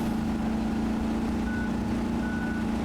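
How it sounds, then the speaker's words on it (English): A truck in the video game RoadCraft gives a steady reversing beep that pulses in an even rhythm over a constant engine drone, loud and close. "I do hear the beep, Peggy."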